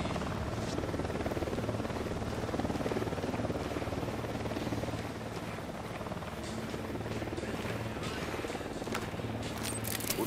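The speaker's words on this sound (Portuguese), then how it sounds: "O drone está no céu." A drone hovers overhead in a video game, its steady buzzing rotor drone running throughout under the game's background sounds.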